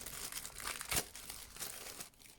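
Close, quiet crinkling of a plastic bag holding a phone case inside cardboard packaging, with a sharper rustle in the middle and softer handling around it, no talking.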